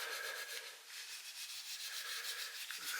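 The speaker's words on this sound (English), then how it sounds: "I'll just give it a bit of a rub in, and then I will rub any excess off" Finish being rubbed into the neck of a Telecaster kit guitar by hand, a soft continuous rhythmic rubbing with cloth on wood, quiet and close with no talking.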